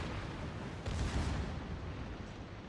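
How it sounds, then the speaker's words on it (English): Battleship secondary guns firing in World of Warships, a dense rumbling barrage of overlapping booms that swells briefly near the start and stays loud and continuous throughout, with no voices. "Secondaries are firing away."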